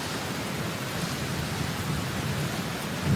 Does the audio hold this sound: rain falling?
yes